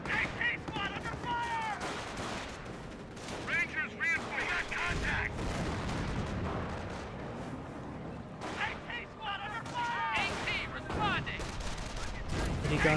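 Rattling rifle and machine-gun fire crackles through a Company of Heroes 1 World War II battle between US troops and Panzer Elite forces, sustained bursts with distant explosions underneath, while a commentator talks over it.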